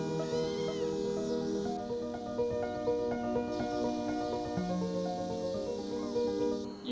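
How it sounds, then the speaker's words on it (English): Kittens meowing outdoors, several overlapping high plaintive cries repeating steadily and fairly close, over a continuous background of insect chirping. "Play with the kittens,"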